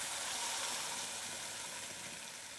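Ground masala paste hitting hot, thickened oil in a pan, a steady, even sizzle and hiss that holds for several seconds and eases off slightly, with no talking.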